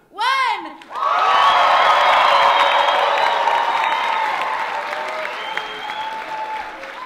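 A community airband show audience erupts into loud cheering, whooping and applause after a brief shout, sustained roaring crowd noise that slowly tapers over several seconds.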